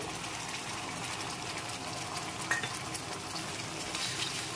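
Cashew, almond and melon seed paste cooks with a splash of water in a pan, giving a steady loud sizzle and bubbling hiss throughout, with faint stirring scrapes and no talking.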